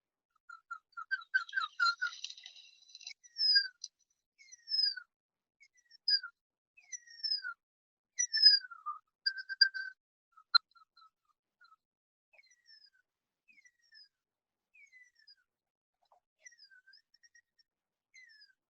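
A man whistles an imitation of an extinct New Zealand bird's call in an old 1950s recording, giving a series of thin, rising and falling whistled phrases separated by pauses that grow fainter toward the end.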